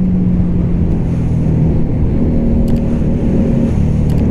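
A CMC Buccaneer motorcycle engine runs with a steady, loud low rumble and hum throughout, with no clear rise or fall in pitch.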